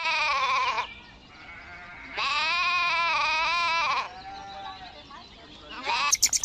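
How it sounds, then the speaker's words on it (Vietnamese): A sheep bleats in long, wavering, nasal calls, two loud sustained cries separated by a pause, followed by a softer trailing bleat and a few sharp clicks at the end. "Con cừu."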